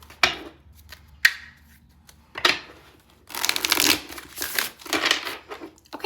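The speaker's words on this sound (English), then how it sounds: "Let's redo that shuffle." A deck of tarot cards is shuffled by hand in several separate bursts: sharp riffles and snaps, then a longer flurry of fluttering card noise, heard close with no talking.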